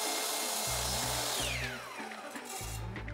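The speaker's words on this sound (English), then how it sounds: "Here I'm using 2x10s, and you'll see my saw is so small I have to make this cut with 2 passes" Small power saw cutting 2x10 lumber for an outdoor planter: a loud, steady high whine with shifting blade pitch and low rumbling motor pulses, close and continuous.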